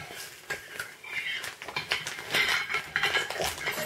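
A spoon scrapes and clinks rapidly against a bowl, a busy close-up patter of stirring a gelatin mixture for homemade gummy candy.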